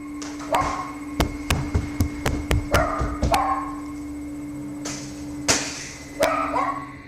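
A dog barks in sharp, irregular bursts, several quick barks in a cluster and then a few more after a pause, fairly close over a steady background hum.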